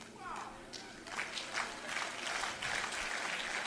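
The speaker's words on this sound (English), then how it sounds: "people clapping for this." A crowd claps steadily, a dense patter of applause that builds after a second and keeps going at a moderate level.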